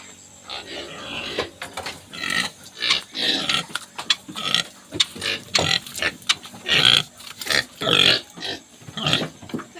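Pigs grunt repeatedly in uneven, close bursts on a countryside farm in Macao, with a sow among them; the snorts come loud and choppy over several seconds with no speech.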